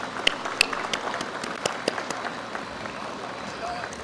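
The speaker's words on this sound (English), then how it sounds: "and let's give it a round of applause," Audience at a banknote design reveal ceremony for the Central Bank of Belize applauds, a steady wash of many hands clapping at moderate volume with a few sharper claps early on and a voice faintly underneath.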